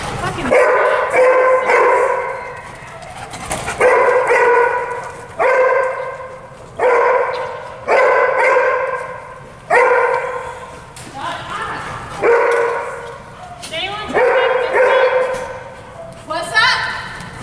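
Several dogs bark in repeated loud bursts over about seventeen seconds, mixed with yips and occasional whimpers, while a person shouts between and over the barking.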